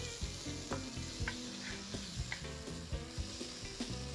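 Canned tomatoes being stirred into a hot frying dish in a home kitchen, with a steady sizzle and soft repeated scraping strokes throughout, close and alone without talk.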